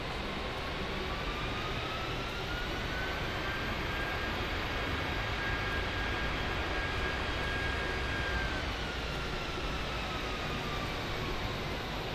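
Simulated jet engines of a Fenix A320 airliner taxiing in Microsoft Flight Simulator, a steady dense roar with a faint whining tone rising and falling, constant in loudness throughout, with no talking.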